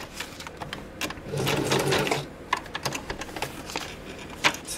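A sewing machine stitches a zigzag onto a paper scrapbook journaling spot, with a short burst of rapid whirring followed by scattered single clicks and taps, close and moderately loud.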